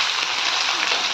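Cooked rice stirred into a pan of hot oil with cumin tempering fries with a steady, close, even sizzle throughout, no talking.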